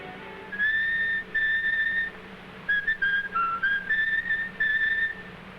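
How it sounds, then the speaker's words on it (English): A person whistles a lilting tune in several phrases with short pauses between them, clear and close over a low hum in an early sound film scene. "Please stop that whistling."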